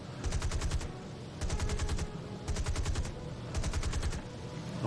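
Aircraft gunners fire machine guns in War Thunder in four rapid, evenly spaced bursts, each a fast rattle of shots over a steady background engine drone.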